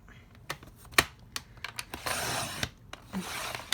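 Craft cardstock is trimmed for an exploding box card lid, with scattered sharp taps and clicks, then a steady rasping slide of a trimmer blade, close and fairly quiet.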